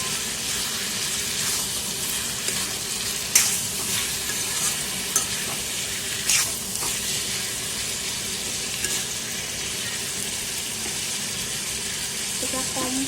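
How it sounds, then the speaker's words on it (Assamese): Mutton stir-fried in a pan on a low flame makes a continuous, even hissing sizzle with occasional faint clinks of the stirring spoon, close and steady throughout. "এতিয়া কম ফ্লেমত দি ল' ফ্লেমত দি মই এনেকৈ ভাজি থাকিম।"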